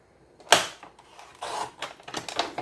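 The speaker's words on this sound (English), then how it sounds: "So if you have a pair of scissors, just cut that corner." Scissors snip the corners off paper for a handmade notebook: a sharp close cut, then several softer crisp snips and paper rustles in an irregular rhythm.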